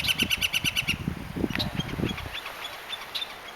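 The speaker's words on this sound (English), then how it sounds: "Got the woodpeckers up there." Sharp, rapid bird calls ring out in a quick repeated series, followed by a few scattered single chirps, with a low rustling rumble underneath.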